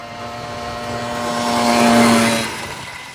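A 1970 BSA Ariel 3 moped running on a private road, its small engine buzzing steadily and swelling louder as it passes close, then fading slightly.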